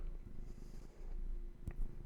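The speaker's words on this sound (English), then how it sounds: "He's got a little motor on him, that cat." A loud, contented cat stretched out close by purrs in a low, steady rumble that runs for the whole stretch with only a brief dip, plus a soft tap or two.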